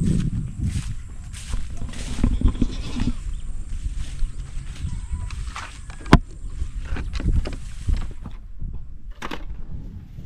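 Goats on a farm, with scattered bleats and rustling around them, plus sharp clanks and knocks. Nearby movement is fairly close and moderately loud.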